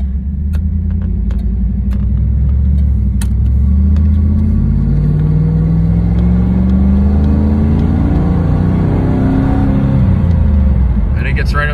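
A 1994 Camaro's engine builds steadily as the car accelerates toward 60 mph, a continuous mid-pitched drone with rising harmonic sweeps over constant road rumble, heard from inside the cabin.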